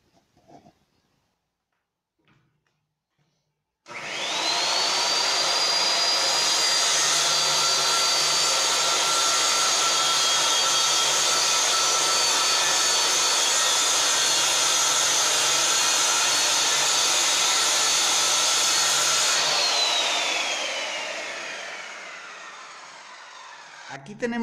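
A circular saw making a long straight cut through melamine board: the motor spins up with a rising whine, holds a steady loud buzzing roar for about fifteen seconds, then winds down.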